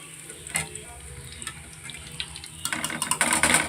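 Chicken pieces fry in hot oil for chili chicken, a steady sizzle that turns louder and busier toward the end as a slotted spoon stirs and lifts them out, with close scraping and splashing.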